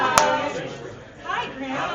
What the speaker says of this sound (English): Sorry, I just clapped right into the lab.